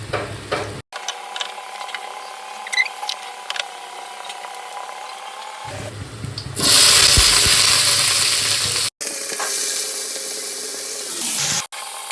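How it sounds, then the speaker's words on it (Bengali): Potatoes fry in a pan, first as a steady low sizzle, then as a louder, close, hissing crackle that runs for several seconds with brief breaks and no talking. "আলু ভাজা বসিয়ে দিচ্ছি"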